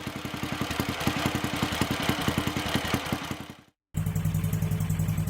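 A Netuno 250 motorcycle, a small classic Italian machine, runs with a rapid, even, close-up engine beat, then cuts out briefly before resuming with a deeper, smoother idle.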